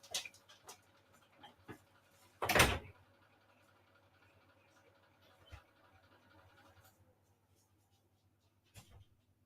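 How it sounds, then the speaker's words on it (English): A dog at a door wanting to be let in, giving soft whimpers and panting with a few scratches and knocks, including one louder bump, set against a quiet indoor room hum. "The dog wants in, she wants in."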